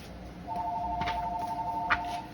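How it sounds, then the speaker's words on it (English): A telephone rings in the background, its steady electronic warble starting about half a second in and running to the end, with faint room noise beneath and no talking. "We're just gonna ignore that phone ringing in the background"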